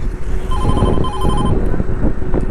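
A Rapido ride app order notification chimes loudly in repeated electronic tones on a phone over rumbling traffic and wind noise.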